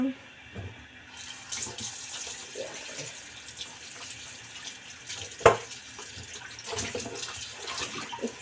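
Tap water runs at a sink as a blanched dried sausage is rinsed under it, a fairly quiet, uneven splashing with a sharp knock partway through and some talking underneath.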